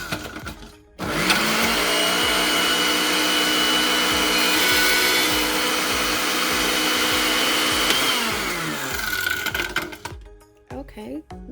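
A kitchen blender whirs loudly, running steadily for about seven seconds as it chops dates and other energy bite ingredients, then winds down to rattling and clatter.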